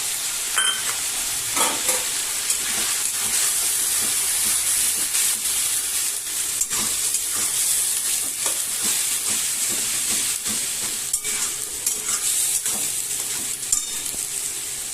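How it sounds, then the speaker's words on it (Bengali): Onion and spice masala for chicken curry sizzles and fries steadily in a pan, a loud continuous hiss broken by scrapes of stirring throughout, with no voices. "দেখো মশলা প্রায় কষা হয়ে গেছে"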